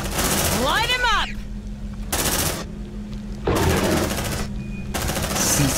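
Gunfire in the video game Aliens: Dark Descent crackles in loud, repeated automatic bursts over music and electronic game effects, alternating with brief quieter gaps.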